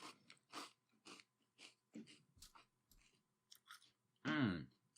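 Crunchy peanut butter cereal being chewed with milk, close and wet-sounding: a run of short irregular crunching bites, then a louder, longer burst of chewing near the end.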